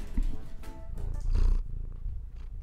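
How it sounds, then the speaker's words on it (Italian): A cat purring close to a microphone, a low rumbling flutter that rises and swells toward the middle before easing off, short and intimate. "Due fusa al microfono."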